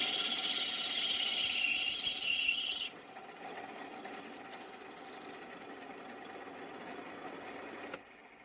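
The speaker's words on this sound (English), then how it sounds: "And drill through both bushes at the same time." A drill bores through the throttle spindle bushes of an SU HS4 carburettor, giving a loud, bright, shrill grinding that cuts off abruptly, followed by a quieter motor whir that then stops.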